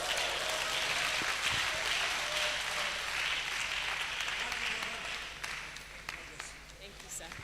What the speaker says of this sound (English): Another round of applause for our lecturer